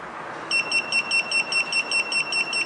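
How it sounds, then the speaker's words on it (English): A smart hotel room's door-open alarm sounds after the door is left open, giving a steady series of high, evenly spaced double beeps that start abruptly and repeat over faint background hiss. "then we will see the alarm is triggering."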